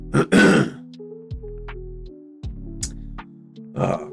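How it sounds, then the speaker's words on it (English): A man clears his throat several times with harsh, guttural rasps, a strong burst at the start, a few smaller hacks through the middle, and another rough clearing near the end, close and alone. "I'm clearing my throat today"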